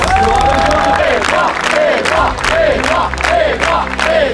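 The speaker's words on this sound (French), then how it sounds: "que je vous demande d'applaudir" At a political rally with Édouard Philippe, a dense crowd cheers and claps loudly, with whoops and shouted voices layered over continuous clapping throughout.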